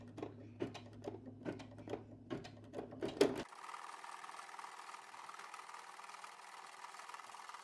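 A Brother SE625 embroidery machine stitching a patch, a rapid rhythmic mechanical clatter of the needle, moderately close, stopping abruptly after about three seconds and leaving quiet hiss.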